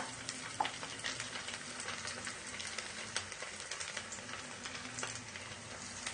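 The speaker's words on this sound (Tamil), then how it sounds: "இந்த மாதிரி நல்லா பொரிஞ்சிட்ருக்குதுங்க." Atho bonda balls deep frying in hot oil give a steady, dense sizzle with crackling pops throughout, close and fairly quiet, with no voices.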